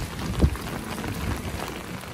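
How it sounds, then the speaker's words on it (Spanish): A heavy rain downpour on a rainy day in Nicaragua, a dense steady hiss of falling water with a few low thumps, close and continuous with no voices. "en 20 minutos de lluvia comenzó a caer, ¿cómo se dice, amor? Un aguacero tremendo."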